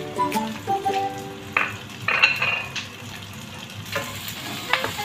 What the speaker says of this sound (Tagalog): Paghalo-haluin hanggang na lumabas ang aroma at mag-golden brown ang onion